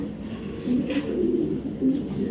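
Pigeon cooing from long-distance racing pigeons, including a female, soft low coos repeating close by over a steady background murmur.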